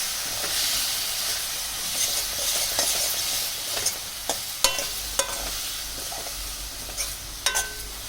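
Cauliflower pieces fry in a pan for a gravy curry, giving a steady hiss and sizzle, while a spoon stirs them now and then with scattered scraping and knocking against the pan.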